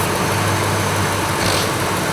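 A 1998 car engine with a leaking intake manifold gasket idles steadily and loudly up close while spray is applied around the gasket, the idle shifting slightly in tone partway through.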